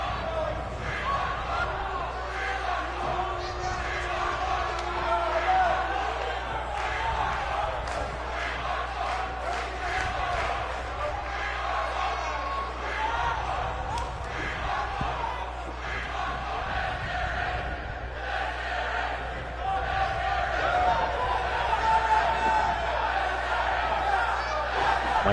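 Wrestling arena crowd clamouring for a fight, a loud, sustained roar of cheering and shouting voices that swells and surges throughout, with a commentator talking over it.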